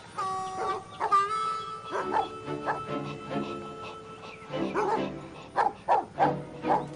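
A hunting dog yips, whimpers and barks in a string of short, separated calls, fairly close, with some howl-like drawn-out notes early on.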